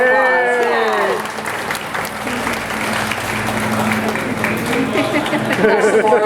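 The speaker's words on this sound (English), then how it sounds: "Let's give her a big round of applause." A small crowd claps for a dancing girl, scattered clapping mixed with chatter and nearby voices talking over it, swelling again toward the end.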